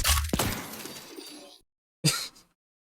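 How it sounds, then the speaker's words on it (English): A suppressed gunshot effect from a gun built in a video game fires as one sharp, close crack with a decaying tail. After silence, a second short burst follows. "and the suppressed sound is playing."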